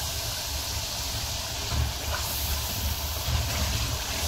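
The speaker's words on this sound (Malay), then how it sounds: "Kita letakkan daun kesum, dah tu kita tumis lagi lah." Kesum leaves sautéed in fried spice paste and oil for asam pedas with bitter gourd, a steady hissing sizzle with a few soft stirring bumps, no talking.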